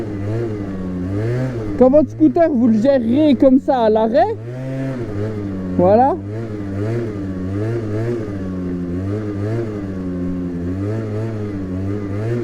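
Engine of an MBK Stunt (Yamaha Slider) scooter blipped with short throttle bursts during wheelie practice, rising whines rapidly stacked early then a single rev later, over a steady idle while someone talks.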